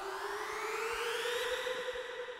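Synth sweep made in NI Massive with LFO-modulated fuzzy noise and delay: a steady tone with harmonics gliding slowly upward over a hissy, grainy noise bed, heard alone at moderate loudness.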